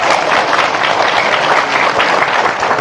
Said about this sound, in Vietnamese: Vậy các vị cho tôi tràng pháo tay đi.